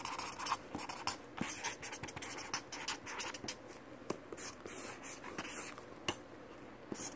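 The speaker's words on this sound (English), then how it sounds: "I write that here." Someone writes by hand, close and quiet, in a steady stream of scratchy strokes with brief pauses. Faint breathy voice sounds are barely present.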